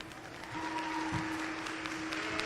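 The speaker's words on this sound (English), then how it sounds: "Let's give these good juniors a round of applause." A crowd applauds junior showmanship contestants at a county fair sheep show, with steady clapping that carries on throughout under a faint tonal hum.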